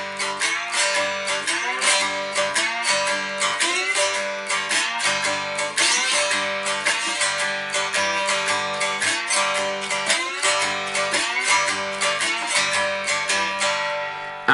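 A cigar box guitar plays a one-chord boogie riff with slide-style moves up the neck, bright twangy strings in a steady shuffling rhythm, close and solo without any voices.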